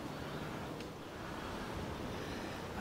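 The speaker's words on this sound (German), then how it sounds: "Da drüben kann man sehen, wie sich das Wasser durchzwängt" Water pushing and squeezing through a channel in a renaturalised stretch of the Danube makes a steady, broadband rush that holds even and continuous throughout, with a breathy, wind-like wash and no voices.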